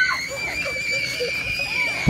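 Distant screaming from a crowd of people in a corn maze after dark, a steady wash of high, shrill voices that carries on without a break.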